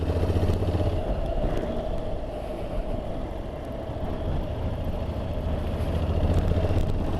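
A Honda NC750X motorcycle fitted with bar risers is ridden along, a steady low engine rumble mixed with road and wind noise that stays constant and fairly loud, with no voices.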